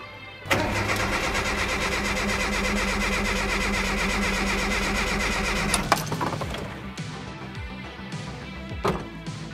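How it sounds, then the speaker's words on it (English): A Mazda B2200 pickup fitted with a turbo engine cranks over on the starter in one long, steady, loud churning run that stops abruptly, leaving a few quieter clanks and knocks. "now I'm gonna crank the engine a few times"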